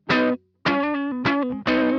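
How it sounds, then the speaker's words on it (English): An electric guitar through the SP-404 MK2 sampler's amp simulator, with a crunchy, distorted tone, plays a few sustained notes that ring out. "the amplifier sim I'm running on the guitar"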